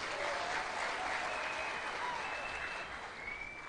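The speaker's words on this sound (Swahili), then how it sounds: "Tafadhali tumpigie makofi Njoroge Mushiri." Sustained applause from a seated audience at an official press briefing, steady and dense throughout, with a faint voice barely audible beneath the clapping.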